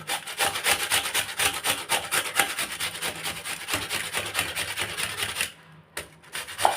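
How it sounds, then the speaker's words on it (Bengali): Watermelon rind rubbed against the large side of a kitchen grater, producing a continuous fast rasping scrape in quick repeated strokes, close and steady, that stops briefly near the end. "আমি এটাকে এই গ্রেটার দিয়ে গ্রেট করে নেব বড় এই গ্রেটারের জায়গাটা দিয়ে আমি গ্রেট করব ঘষে নেব"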